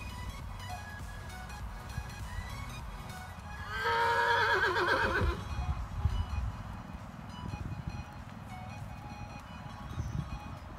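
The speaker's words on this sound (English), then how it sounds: "I also never punish my horses for calling out." A horse at a barn lets out a single loud, wavering whinny lasting about two seconds, rising above a steady low background rumble of wind or machinery.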